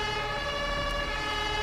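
Fire engine siren from the Feuerwehr Simulator 2014 game wails steadily, a sustained tonal blare with layered harmonics that holds constant, fairly quiet, with no talk over it.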